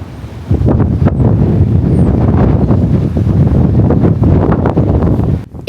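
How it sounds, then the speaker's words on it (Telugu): Strong sea wind blows across the deck of the USS Cavalla, a World War II submarine displayed beside the sea at Galveston. It makes a loud, steady rumbling buffet against the microphone for several seconds, then briefly drops away near the end. "చాలా మంచిగా గాలి వస్తుంది సముద్రం పక్కనే ఉండటం వలన."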